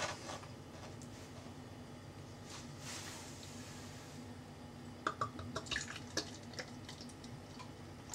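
Homebrewed hefeweizen beer is poured from a bottle into a glass, giving a quiet, steady trickle and then a burst of splashing and fizzing near the end.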